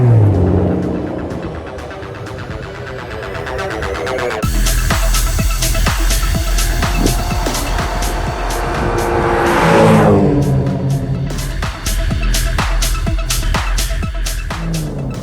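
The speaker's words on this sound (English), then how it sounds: "She always delivers that V12 with no turbos." A naturally aspirated V12 Aston Martin DBS accelerates hard, its loud engine note climbing through the gears with a rising and falling pitch sweep as it passes close by, strong and continuous throughout, with no speech.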